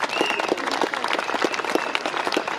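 Crowd at an outdoor Monday walk rally in Görlitz applauding steadily, dense hand clapping close and sustained throughout with no talking over it.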